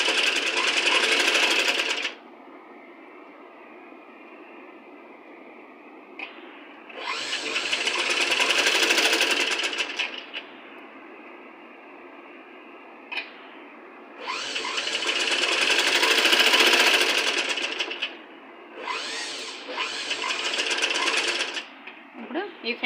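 Sewing machine stitching invisible piping on fabric, running in three long loud bursts with a steady whirring drone between quieter pauses where the motor idles.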